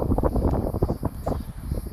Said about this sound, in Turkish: Rüzgarlı. O kadar güzel esiyor ki ve aynı zamanda çok sıcak.